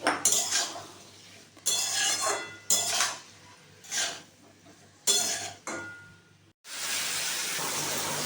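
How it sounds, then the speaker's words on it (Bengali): A spoon scrapes and clinks in a pan, stirring boiled banana flower with chickpeas for a prawn mochar ghonto. The stirring comes in short, close bursts separated by brief pauses, over a faint hiss. "ভালো করে মেশাবো।"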